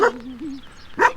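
A puppy out in the rain gives a short, close, high yip followed by a whiny whimper, brief and alone in a quiet moment.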